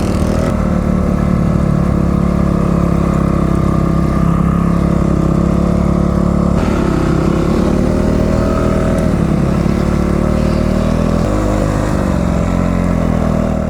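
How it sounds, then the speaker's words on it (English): Loud off-road motorcycle engines drone and rev continuously at an off-road riding park, with pitch rising and falling as the bikes ride close by. "there were motorcycles every direction that you looked"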